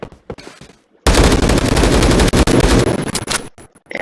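AK-12 BR rifle in the shooter game Phantom Forces, a few scattered shots and clicks, then a loud rapid burst of automatic fire lasting about two and a half seconds before tapering into single cracks.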